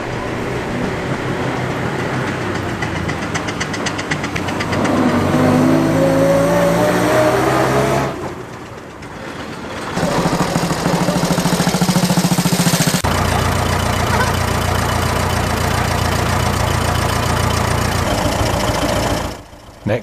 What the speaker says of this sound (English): En route we come across steam engines, buses and other vehicles making their way around the perimeter track.